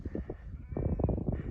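A herd of sheep and goats on a dry high-altitude Ladakh hillside bleats in overlapping, wavering calls, several animals close by, with more bleats crowding together in the second half.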